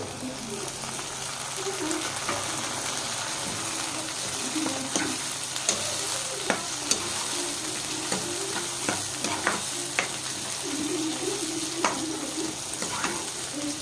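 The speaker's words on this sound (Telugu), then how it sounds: "టమాటాలు వేసి కొంచెం ఇట్లాగా కలిపెట్టాలండి." Tomatoes frying in hot oil for a boti curry, with a steady close sizzle and repeated sharp scrapes and clacks of a spoon stirring through the pan, and no talk.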